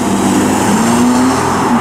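An Aston Martin Rapide driving past on a street, a loud, close engine drone with a rising tone as the car accelerates by, alone without talk.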